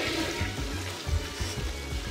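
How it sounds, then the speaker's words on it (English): A toilet flushes in the video game Persona 3 Portable, a steady watery rush with gurgling surges that runs for the whole stretch with no talk over it. "Welcome chat to a toilet flushing simulator."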